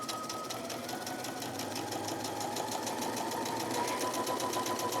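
A sewing machine with a zipper foot stitches an invisible zipper, its needle running fast and steady in a close, continuous mechanical chatter with a faint motor hum and no pauses.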